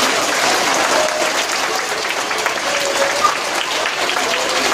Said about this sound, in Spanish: te merece un fuertísimo aplauso